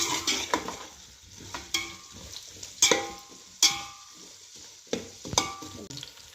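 Onion sautéing in a pan with garam masala, a soft sizzle broken by several sharp clinks and scrapes as a spoon stirs against the pan, close and with no talking.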